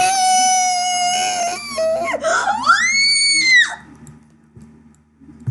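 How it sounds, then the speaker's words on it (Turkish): A person screams loudly while playing Roblox Wipeout, a long rising and wavering shriek lasting a few seconds that then drops away into quiet room noise. "Çok bağırıyorum."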